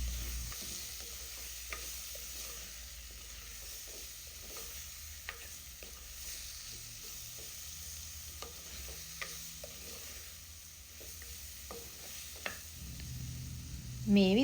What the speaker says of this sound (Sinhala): දැන් ආයෙත් මේ ටික හොඳට කලවම් කරගන්නවා.